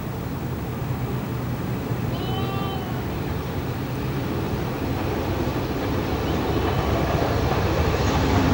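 LMS Duchess steam locomotive train approaching Hellifield Junction on the Settle and Carlisle line, a steady rumbling roar of rolling stock that swells slightly louder toward the end, with a brief whistle-like tone early on.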